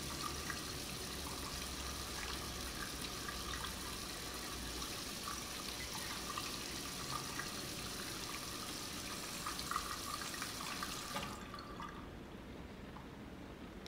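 Shower running in the video game Heavy Rain, a steady moderate hiss of spraying water that cuts off near the end, fairly quiet and with no talk.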